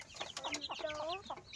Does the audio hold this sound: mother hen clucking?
yes